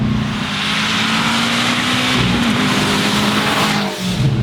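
A 2006 Subaru STI with all-wheel drive roars loudly as it accelerates hard under full throttle, a steady close engine drone with rising pitch and faint tire noise, no talk.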